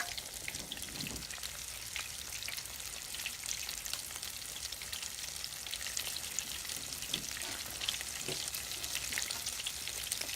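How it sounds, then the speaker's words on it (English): Egg rolls sizzle and crackle in hot oil in a pan, a dense continuous frying hiss with scattered pops, close up. "those are frying up nicely"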